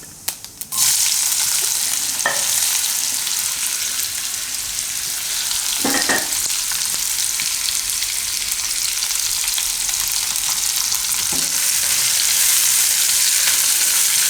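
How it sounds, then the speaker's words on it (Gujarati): Bitter gourd pieces frying in hot oil with cumin for a Gujarati mango-karela shaak, giving a loud, steady, broadband sizzle from start to finish, with a few brief clinks of a stirring utensil against the pan. "તો કારેલા આપણે તેલમાં તેલમાં જ પકાવવાના છે"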